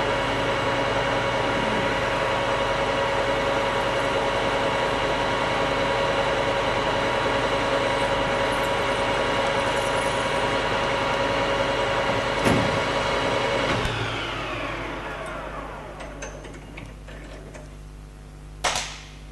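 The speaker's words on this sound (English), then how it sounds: "And we'll be drilling all the way through our particular billet." A 5mm drill bores through a metal billet while machining a Stirling engine flywheel, giving a loud, steady whirring grind that runs without a break, then winds down and fades after a sharp click, with a last clack near the end.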